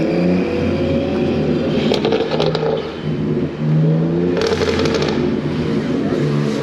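Loud BMW G80 M3 revving hard on New York City streets, engine roaring steadily throughout with crackles and sharp pops bursting over the drone, close and continuous.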